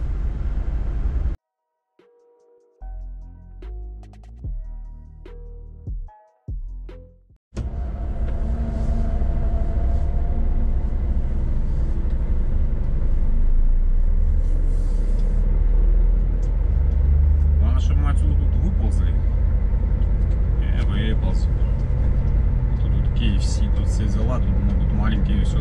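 A car drives at night on the MKAD ring road in Moscow, its engine and tyre roar a steady loud rumble after a few quiet seconds of short clicks and cabin noises, with occasional voices inside.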